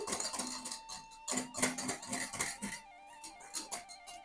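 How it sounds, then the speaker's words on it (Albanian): Pogaçe dough made with sparkling water, yeast and oil is stirred in a bowl: a utensil clinks and scrapes against the bowl in repeated, uneven strokes, fairly close, with no talking. "Përsëri e përzi masën."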